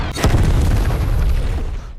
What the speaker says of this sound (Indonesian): melemparkan anak panah yang memiliki ledakan sangat dahsyat